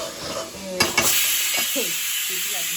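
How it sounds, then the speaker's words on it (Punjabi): Red chili tempering for rajma sizzles steadily in a hot pan with a bright, close hiss. A couple of sharp clinks from stirring cut in, and a voice murmurs faintly underneath. "ਬਸ ਲਾਲ ਮਿਰਚ ਦਾ ਤੜਕਾ"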